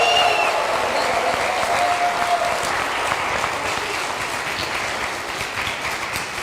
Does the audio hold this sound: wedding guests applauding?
yes